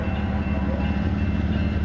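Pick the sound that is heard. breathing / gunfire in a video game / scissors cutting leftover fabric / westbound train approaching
westbound train approaching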